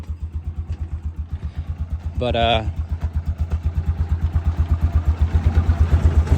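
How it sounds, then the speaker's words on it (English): A 2008 Yamaha Rhino 4x4 Special Edition engine running after being started with a shot of starting fluid, a steady loud chugging idle close by that quickens slightly, with a brief spoken word partway through. "I used a little shot of starting fluid to get it started"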